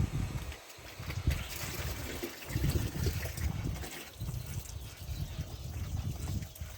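Water runs from a hose into an outdoor turtle tank, a steady trickling and splashing that continues throughout at moderate level, with no talk over it.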